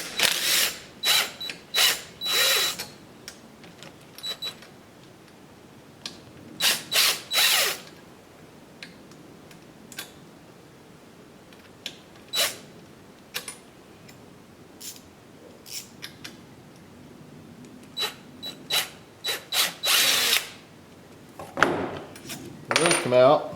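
Black screws are backed out of a bracket on an Onefinity Elite Foreman CNC machine, with sharp metallic ratcheting clicks and light clinks in scattered bursts, close by, separated by quiet gaps and no talking.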